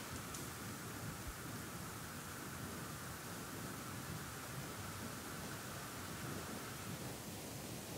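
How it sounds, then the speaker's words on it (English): Steady muffled rain drumming on a cave roof in the video game Undertale, a continuous soft broadband hiss at low level, unbroken and with no voices. "The sound of muffled rain on the cave top fills you with determination."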